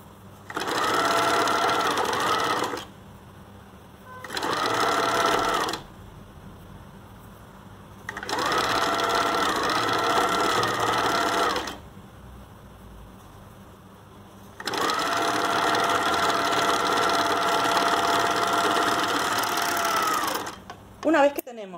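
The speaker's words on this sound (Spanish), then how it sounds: "vamos a coser con una puntada overlock o recta en los dos laterales" A sewing machine runs an overlock or straight stitch along the side seams of a garment being remade from old clothing, in four steady bursts with short pauses between them, close and fairly loud, with no talking.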